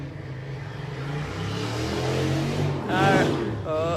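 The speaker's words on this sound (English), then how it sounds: "Somebody's revving their engine outside." A motorbike engine revving outside an open window, a steady low rumble that swells into a rising rev near the end, heard under nearby indoor talk.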